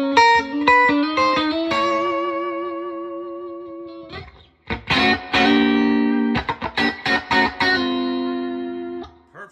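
A single-coil electric guitar played loud through a 1967 Fender Bandmaster Reverb amp, breaking up into gritty distortion: picked notes and chords ring with reverb, a brief pause, then heavier strummed chords return.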